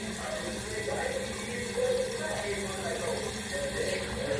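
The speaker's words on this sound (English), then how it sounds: "So I'm just gonna wash my hair, and I'm gonna put a little water on there." Water running steadily from a tap while hair is being washed, a continuous close hiss and splash, with faint talking beneath it.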